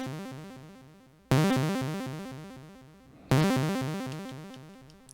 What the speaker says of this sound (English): So if I want to make a simple minor arpeggio